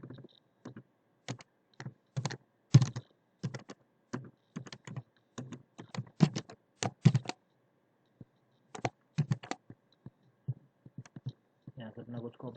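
Keys tapped on a computer keyboard while writing an SQL DDL example, irregular bursts of close, crisp clicks with short pauses between runs, no voices.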